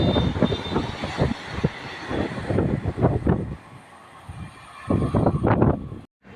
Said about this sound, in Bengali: সামনে দিয়ে ছুটে আসছে পনেরো হাজার সাতচল্লিশ পূর্বাঞ্চল এক্সপ্রেস